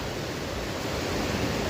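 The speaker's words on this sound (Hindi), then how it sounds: "कितना तेज़ी से पानी चल रहा है।" A swollen mountain river in a hill village rushes past in a dense, steady roar of broadband water noise, loud and close throughout with no talking.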